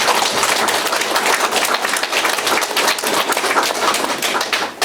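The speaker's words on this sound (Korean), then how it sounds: "박수 한번 치시죠." Audience at a cooperative's briefing claps, a lively uneven patter of hands with rapid close claps, fairly loud and continuous for several seconds.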